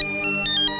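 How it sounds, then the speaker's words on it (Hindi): A telephone rings with a short, bright electronic ringtone, a steady warbling tone heard alone for under a second. "जाइए, जाकर फोन उठाइए।"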